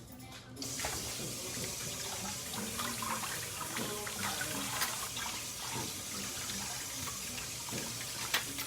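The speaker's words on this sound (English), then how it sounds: "let me rinse this off, this broccoli off," Tap water runs steadily into a kitchen sink, rinsing broccoli: a continuous close splashing gush that starts abruptly and carries on to the end.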